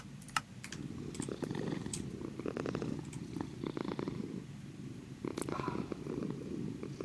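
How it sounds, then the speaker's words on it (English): A soft, steady cat purr from a video game rumbles low beneath scattered keyboard typing and clicks, faint and continuous throughout. "we have to turn up the sound in game so we can hear the delicious purrs"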